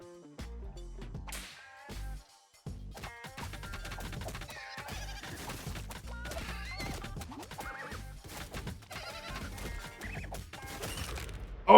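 Duck-sized horses neighing and whinnying amid a chaotic video game brawl, with whip-like cracks, thuds and crashes layered over a busy, steady din that briefly drops out before surging back.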